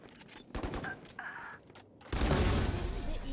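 Gunfire in the tactical shooter Valorant during a ranked match: a burst of shots and impacts, then a loud sustained barrage of firing from about two seconds on, with no talk.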